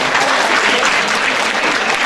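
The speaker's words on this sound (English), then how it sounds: "And deserves a huge round of applause." Loud, close applause fills a sold-out community event hall, a dense continuous roar of many hands clapping without letup for the whole short stretch.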